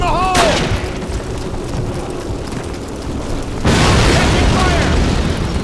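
Grenade blast in the Call of Duty (2003) video game, a loud close boom that erupts suddenly partway through and rumbles on to the end, with battle noise and shouted voices beforehand.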